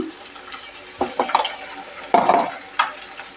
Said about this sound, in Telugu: ఇప్పుడు వచ్చేసి అల్లం వెల్లుల్లి పేస్ట్ అండి, 1 స్పూన్ అయితే వేసుకోవాలి.